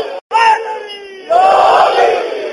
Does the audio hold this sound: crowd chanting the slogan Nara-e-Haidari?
yes